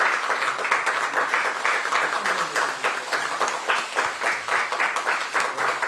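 People at a Democratic Party supreme council meeting applaud an appointment, producing steady, fairly loud clapping from a roomful of attendees that lasts several seconds with no talking over it.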